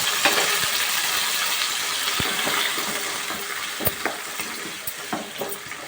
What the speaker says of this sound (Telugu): వేగిన తర్వాత ఈ టమోటా పచ్చిమిర్చి ఉల్లిపాయలు వేసేస్తున్నాం